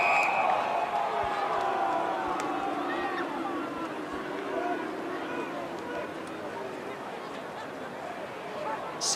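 AFL football crowd at a GWS Giants match rising in cheers and hubbub, a broad roar from a large stadium audience with a commentator's voice talking over it.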